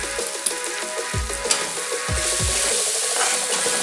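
Tomatoes sauté in a pan with turmeric for veg pulao, a steady sizzle overlaid with repeated scraping strokes of a spoon stirring through the mixture.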